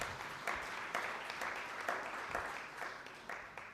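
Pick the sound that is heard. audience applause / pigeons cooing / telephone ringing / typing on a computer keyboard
audience applause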